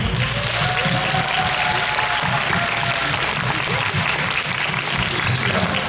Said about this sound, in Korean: 바로 빌런즈 여러분, 여러분들께 박수 한번